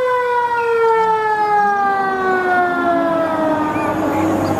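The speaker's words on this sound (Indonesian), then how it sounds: "Wah, mobil pemadam kebakaran." A wailing toy fire truck siren sweeps steadily up and down in pitch, loud and close, with a thin electronic tone.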